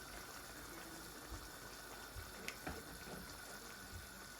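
Tomato sauce for lasagna, seasoned with a Maggi cube, tomato puree and a little sugar, bubbles in a pot, a steady faint simmering hiss with a few soft pops and no talking.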